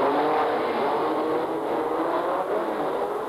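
Simca 1000 rally cars race on a circuit, their engines a continuous loud roar and whir with no break, as if several pass close together.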